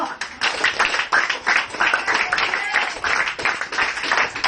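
Rhythmic clapping from a church congregation after praise and thanks to God, loud bursts that swell and dip in waves, with a faint voice mixed in.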